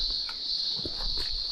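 Cicadas buzz steadily in the Australian bush of Morton National Park, making a constant high, shrill drone. A few faint soft patters and rustles sound underneath.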